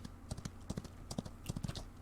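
Horse hooves clip-clop at a slow walk in the western video game Outlaws of the Old West, a steady run of soft, low thuds, fairly quiet and close, with no talking over them.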